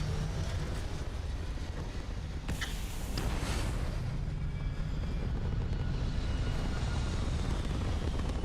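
A spaceship lifts off in the video game Starfield with a steady, loud engine roar that swells slightly partway through and holds without a break to the end.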